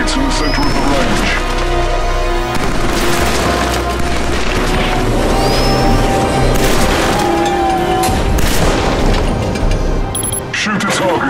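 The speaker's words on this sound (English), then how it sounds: "Shoot the targets with your rifle." Assault rifle fire rings out on a shooting range in the video game Killzone 3: sharp cracking shots pile up over a dense, steady game soundscape and continue for the whole stretch.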